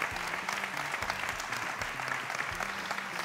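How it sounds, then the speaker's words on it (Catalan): Steady applause from a theatre audience at a grand final, dense clapping filling the hall without pause and no voices on top. "un aplaudiment per ella, si us plau."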